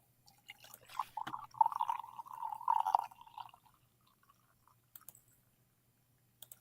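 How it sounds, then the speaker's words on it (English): Coffee poured into a cup, a gurgling liquid stream lasting about two and a half seconds, quiet and close, followed by near silence with a couple of faint clicks. "That was a nice pour."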